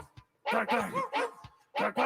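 A man imitates a dog with several loud vocal bark sounds in uneven bursts, close to the microphone.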